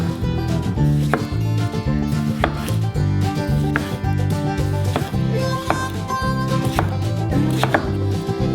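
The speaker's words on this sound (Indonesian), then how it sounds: "Untuk melakukan ini, potong tomat." Tomatoes are chopped on a board for homemade tomato sauce, a rapid, steady series of close knife strikes that runs continuously with no talking.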